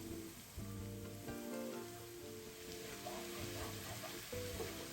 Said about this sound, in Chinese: 再将备好的红葱片倒入油炸。